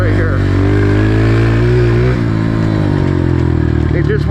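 A Honda CRF125F motorcycle engine revs hard on a dyno, a loud, close, steady high drone that holds near the top of its range, then eases slightly and carries on.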